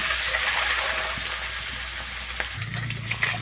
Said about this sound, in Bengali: আমি এবার একে একে ডিমগুলোকে সব ভেজে নেব